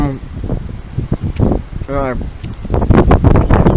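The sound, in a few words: strong wind blowing on the shore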